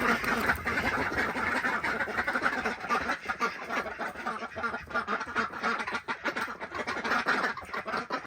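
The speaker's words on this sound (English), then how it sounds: "Hello, ducks." A group of ducks quacks continuously and loudly nearby, overlapping calls forming a busy, chattering chorus.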